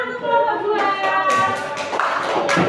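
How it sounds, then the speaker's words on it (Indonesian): A small group of schoolchildren claps in brief, scattered applause in a classroom, with children's voices chattering alongside. "boleh tepuk tangan untuk kelompok"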